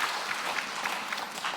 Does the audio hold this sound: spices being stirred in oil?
no